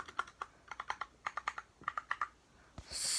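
Keys on a Royal Kludge 60% mechanical keyboard are pressed one at a time and in quick runs, giving crisp, close, fairly quiet clacks, followed by a brief rustling burst at the end.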